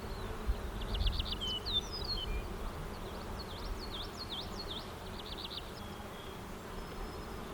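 Honeybees hum in a low, steady drone around a beehive box being worked, fairly quiet and close, with bright bird chirps trilling faintly above it.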